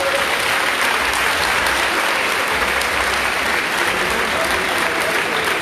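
An audience applauds new baccalaureate graduates at a school reception, dense sustained clapping filling the room at an even, loud level throughout.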